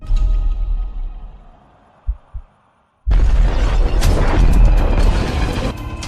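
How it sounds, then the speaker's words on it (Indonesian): A massive explosion tears through a deep-sea underwater station in the film Underwater, triggered by excess pressure. A heavy low rumble fades to near silence with a few dull thuds, then a sudden loud blast erupts into a sustained roaring crash. "tiba-tiba terjadilah ledakan yang menghancurkan hampir seluruh area di tempat itu"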